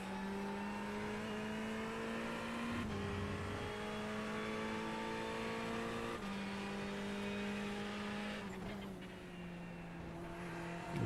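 In the iRacing video game, a Ferrari 488 GT3 Evo race car accelerates hard through the gears at the Hungaroring, its engine note climbing steadily and dropping at each upshift, loud and close throughout.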